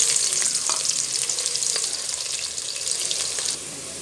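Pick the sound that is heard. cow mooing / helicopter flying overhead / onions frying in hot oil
onions frying in hot oil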